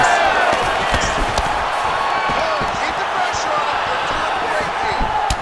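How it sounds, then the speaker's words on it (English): Arena crowd in the UFC 5 video game reacting to landed hooks, with a steady roar and bursts of cheering over sharp impact thuds, while a commentator talks over it. "you can hear the crowd reaction every time he lands another hook"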